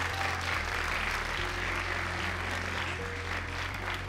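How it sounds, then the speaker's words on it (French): A live audience at an Overwatch 2 launch event applauds in a steady, dense burst of clapping that stays loud and even throughout, with no talk over it. "n'ayons pas l'applaudir encore une fois"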